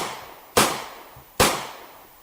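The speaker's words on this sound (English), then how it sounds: "Gunshots!" Two sharp gunshot sound effects ring out alone, about a second apart, each a loud crack with a short fading tail.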